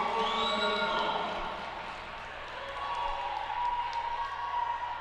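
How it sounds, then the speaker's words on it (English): A crowd at a women's college volleyball match cheers on the home team, a steady, broad roar of voices and scattered claps that swells and dips without pause throughout. "So I'm sure you can hear the crowd loving the Tommies play to start this one"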